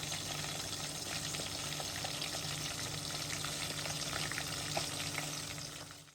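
Irregular beef patties fry in oil in a pan, giving a steady, close sizzle that holds even throughout and fades out at the very end, with no voices over it.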